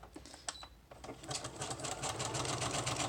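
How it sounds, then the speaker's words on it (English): Sewing machine stitching straight down the center of a stack of paper, a few short hesitant stitches first, then a steady rapid mechanical whir, close and fairly quiet. "I'm just going to sew it right down the center."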